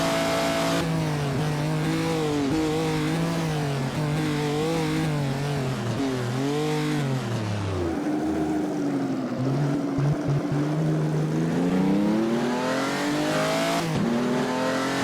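A postwar race car lapping the 1949 Noris-Ring Grand Prix in Assetto Corsa drones and revs loudly up and down through the gears. The engine briefly cuts out from fuel starvation midway and again near the end.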